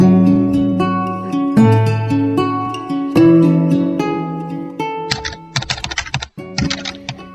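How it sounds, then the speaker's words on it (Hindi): Keys of a white typewriter in a closed room struck in quick uneven bursts, the clacks loud and close and sharpening toward the end, over a steady musical backing. "टाइपराइटर के बटन दबने की आवाज सुनाई दे रही थी।"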